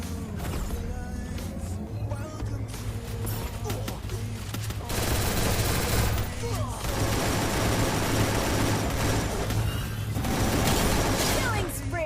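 Rapid bursts of automatic gunfire in the video game Garena Free Fire crackle in waves over a low rumbling background, loud and continuous, with a voice talking underneath.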